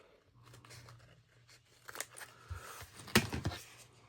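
Scissors snip through fabric for a beadable pen pouch, a soft rustle of handling followed by a few sharp, close cuts toward the end.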